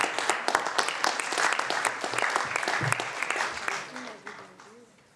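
Sustained audience applause at a high-school eloquence and debate contest, a dense wash of many hands clapping that fills the hall loudly and then thins and fades near the end.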